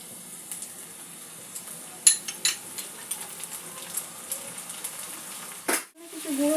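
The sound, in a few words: onion frying with ginger garlic paste added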